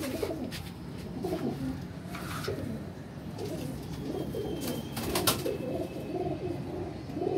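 Red-eyed pigeons coo in soft, repeated low murmurs, several birds close together in a loft, with occasional rustling and faint chirps behind them.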